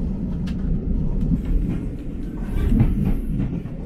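Carriage of the Scarborough Spa Express rolling along the West Coast Main Line south of Preston, with a steady rumbling rail noise and faint clicks from the track, heard from inside the train.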